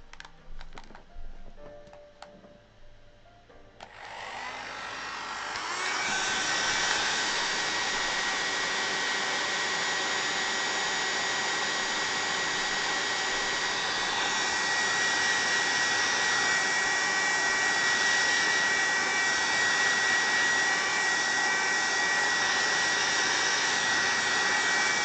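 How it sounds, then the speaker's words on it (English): A hair dryer switches on after a few seconds of quiet clatter and then blows steadily with a constant whirring hum. "A dryer."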